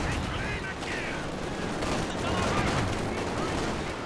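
Battle in Company of Heroes 2 with dense machine gun chatter and artillery explosions in a continuous loud barrage, with a voice talking over it.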